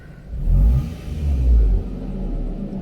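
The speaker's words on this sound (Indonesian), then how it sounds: "Coba kita gas ya." Toyota Camry 2.4 V engine fitted with a modified exhaust revving twice, each swell a deep, loud rumbling roar that falls back to a steady idle, close by with no talking.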